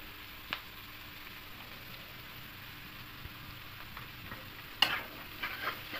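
Salted vegetables fry in a pan for a homemade pasta dish, giving a soft, steady sizzle with occasional light scrapes and clicks of stirring, faint and close with no talk.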